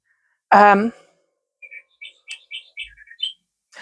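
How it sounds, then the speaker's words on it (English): A cuckoo clock calls indoors, opening with one loud, clear tonal note and followed by a string of short, light chirping tweets at an even pace, with no talking. "that's my cuckoo clock going again"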